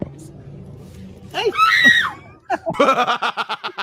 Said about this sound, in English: the dog screamed like that